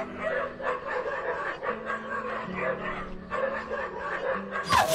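Pétou, the boss's dog, barks repeatedly in an indoor game scene, a run of sharp yips and woofs over a low steady hum, with laughter-like chuckles mixed in.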